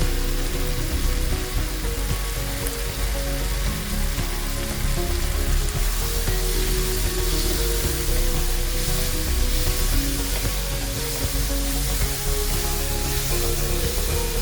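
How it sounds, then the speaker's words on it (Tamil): A masala with chilli powder fries in a pan, giving a loud, dense, constant sizzle with a steady spray-like hiss close by that never lets up. "இந்த மசாலாலாம் நல்லா வதங்கட்டும்."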